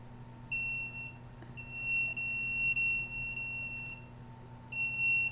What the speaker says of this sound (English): setting off the alarm quite a bit.